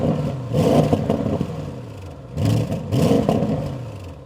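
Audi RS6 GT petrol engine fitted with a particle filter revving, two rising bursts of engine roar with a slightly thin tone, heard close with no talking.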